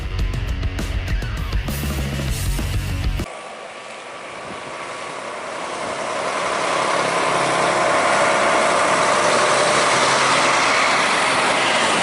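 Following a short burst of music, a bus on a toll road between Pekanbaru and Dumai rumbles as it slows toward a stop, its engine and road noise swelling to a steady, loud roar.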